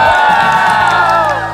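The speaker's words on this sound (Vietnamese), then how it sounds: "Vỗ tay nồng nhiệt nào." A Vietnamese TV studio audience claps and cheers loudly for an arriving guest, a dense, sustained wash of crowd noise over a tonal musical background.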